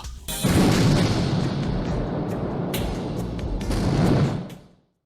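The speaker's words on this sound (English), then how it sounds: "sends him careening into a pier which sets off an explosion" A loud explosion at a pier bursts out and keeps roaring and rumbling for about four seconds before quickly dying away.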